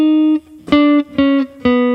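A guitar slowly plays an enclosure sequence, four clean, sustained single notes picked one after another with short gaps, each ringing clearly and alone.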